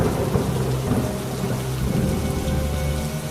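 Heavy rain pours steadily over a flooded village while thunder rumbles low and continuous underneath, a dense, loud wash of sound with no voices.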